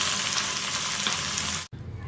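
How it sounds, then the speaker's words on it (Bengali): Sliced bitter gourd fries in a pan with a steady, close sizzle and soft crackle, cut off abruptly near the end before a quieter tail. "উচ্ছে কেটে নিয়েছি, উচ্ছে ভাজা বানাবো বলে"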